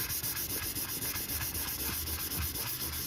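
Graphite is smoothed across drawing paper for a pencil landscape background in quiet, rapid back-and-forth rubbing strokes, soft and close, with a faint hiss.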